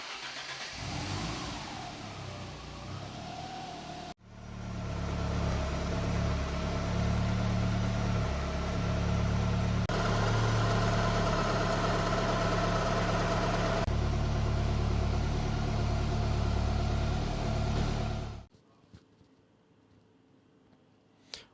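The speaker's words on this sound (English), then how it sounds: "We will add the cleaner to the engine and run it for 15 to 20 minutes to allow it to circulate fully around the engine" A Lancia Delta HF Integrale Evolution engine runs with Wagner engine cleaner added, starting with a sharp catch, then settling into a steady, loud idle with a slight rise midway before being switched off abruptly.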